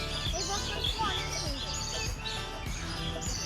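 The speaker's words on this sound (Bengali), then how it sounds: "আর পাখির কিচিরমিচির শব্দ, অসাধারণ লাগতেছে না?" Small birds chirp and twitter among old banyan trees at the Mahasthangarh shrine grounds, a steady layer of high, quick calls over a soft breezy background, with people talking nearby.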